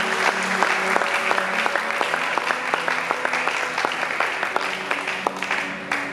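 A church congregation claps and cheers in acclamation during a sermon, dense sustained applause with rhythmic clapping carried over a steady tone, fairly loud and continuous.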